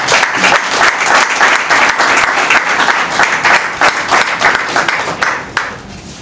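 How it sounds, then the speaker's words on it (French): Wedding guests applaud the couple at a French civil ceremony, with dense, sustained clapping from a close crowd that runs steadily throughout and eases slightly at the end. "Nous allons acclamer pour vous."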